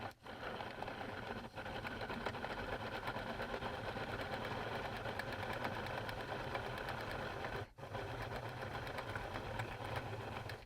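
A yarn winder spins Caron Sprinkle Cake yarn in a steady, quiet mechanical whir with a fine rapid rattle, running continuously apart from a brief pause near the end.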